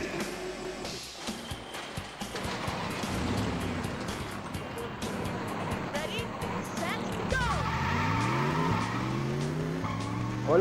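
Arcade racing game Cruis'n USA: car engines roar with repeated tire squeals and skids, rising revving tones near the end, moderately loud and continuous.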